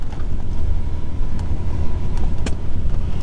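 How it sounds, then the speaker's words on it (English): A busy import-export highway near Jericho with taxis and heavy trucks, heard from inside a moving vehicle as a constant loud low rumble of engine and road noise, buffeted by wind and a few faint knocks. "It's a very busy road with taxis and heavy trucks and things."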